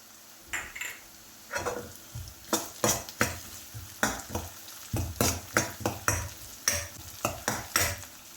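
Slit green chillies frying in a pan while being stirred: repeated loud metallic spoon scrapes and clanks against the pan in an uneven rhythm over a low sizzle.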